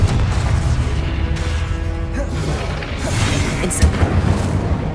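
A Confringo blasting spell explodes in the Hogwarts Legacy video game, a dense, booming crash that fills the scene with rumbling, crackling debris for several seconds, with a brighter burst near the end.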